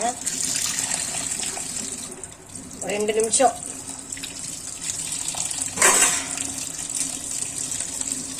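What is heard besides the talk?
tap water running over pasta to rinse it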